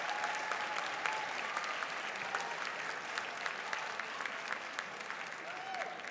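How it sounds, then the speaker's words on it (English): An audience applauds at a school band showcase concert, celebrating more than a hundred young musicians. The clapping is steady and sustained, a dense wash of many hands with a few sharper claps and a faint whistle. "Round of applause."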